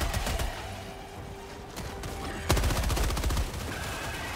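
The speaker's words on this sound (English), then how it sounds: "Almost shot you, Spectre." Default machine gun fire in Helldivers 2, dense rapid bursts of loud gunfire with overlapping shots and a heavier volley midway, alone without talk.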